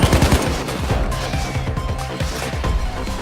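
Heavy sustained gunfire in the heist shooter Payday 2, loud overlapping automatic bursts and individual shots crackling continuously and close, with no speech over it.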